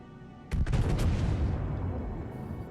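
Gunfire in the naval combat game World of Warships: a sudden cluster of sharp booming shots, then a heavy rumbling roar that slowly fades, loud and close with no voices.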